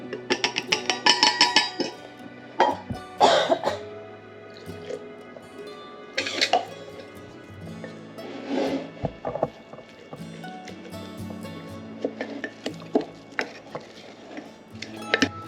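Sourdough starter being stirred and scraped in a jar, with irregular knocks, clinks and wet scraping bursts spread through the clip, fairly close, and no talk.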